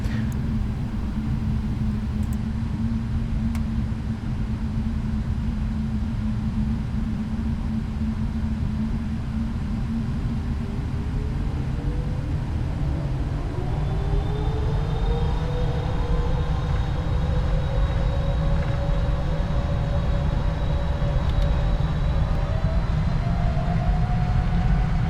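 A Boeing 777 freighter rolls down the runway for takeoff in a flight simulator. A steady, loud engine roar and rumble carries on throughout, with a rising whine climbing in pitch as the speed builds.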